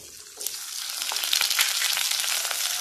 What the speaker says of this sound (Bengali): এবার আমি কেটে রাখা জল ঝরানো আলুটা দিয়ে দেবো।